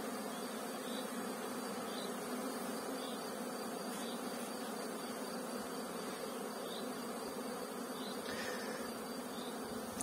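Bees buzzing in flight around beehives in cool weather, a steady, faint humming drone from many insects with occasional individual buzzes passing close.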